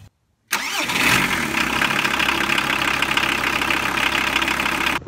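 A Volkswagen T4 van engine cranks and catches after an oil change, then settles into a loud, steady idle close by, after a brief silent gap at the start.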